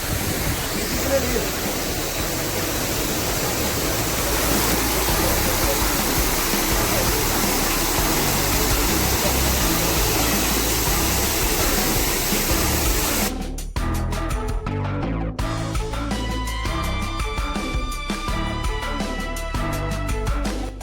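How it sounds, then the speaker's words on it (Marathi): An artificial waterfall in Namo Grand Central Park, Mumbai, gives a steady, full rushing roar for about thirteen seconds, then cuts off abruptly to quieter, mixed park sounds. "आर्टिफिशियल केला धबधबा पण एक नंबर आहे फक्त आतमध्ये जाऊ शकत नाही फक्त बघू शकतो"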